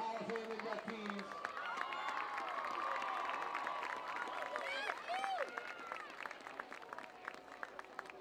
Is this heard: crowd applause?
yes